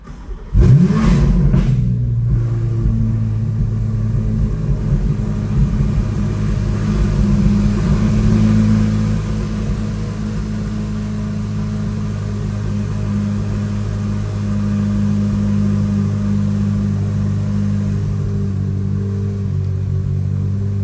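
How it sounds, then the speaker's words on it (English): A Chevrolet Corvette C8 Z06 fitted with Kooks headers cranks and fires with a sharp rev flare, then settles into a loud, steady, rumbling idle close by with no talking. "So I'm gonna start the car."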